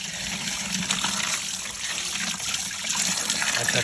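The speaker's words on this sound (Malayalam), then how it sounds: "അത് നല്ലോണം വെള്ളം ഒഴിക്കണോ." Water is poured steadily over fish being cleaned, making a continuous close splashing gush that flows unbroken for a few seconds.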